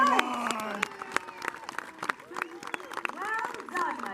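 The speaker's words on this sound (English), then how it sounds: "My lords and ladies, a round of applause," Spectators at a castle jousting show applaud outdoors, scattered clapping and crowd noise running under a performer's raised, theatrical voice, moderately faint and uneven.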